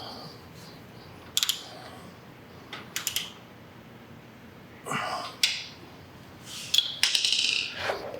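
A ratchet tightens a bolt on a Harley motorcycle, heard as a few short, sharp clicking bursts spaced apart with quiet gaps between them, close by and moderately loud.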